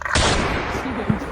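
A single gunshot from a gun in a Gujarati village comedy skit: one sharp, loud crack that trails into a second of rough, noisy decay, with a faint voice underneath.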